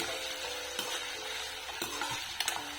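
Sabudana stir-fried with potatoes in a pan for fasting khichdi, giving a steady low sizzle with a few sharp spatula scrapes and clinks against the pan.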